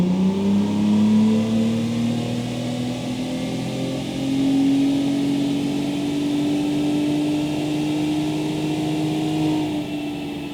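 A Ford F-150 Raptor with the 3.5L engine revs on a dyno in stock mode, a loud, steady roar whose pitch climbs slowly through the pull.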